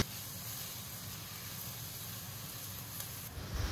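Onions frying in a pan with cardamom and star anise give a steady, soft hiss that runs unbroken throughout, fairly quiet and even, with a slight rise near the end.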